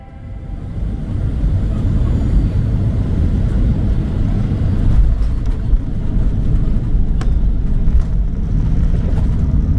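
Cabin of a United airliner descending into Phoenix through choppy air, a loud, steady low-pitched engine and airflow roar heard from inside, continuous throughout, with faint clicks and rattles above it.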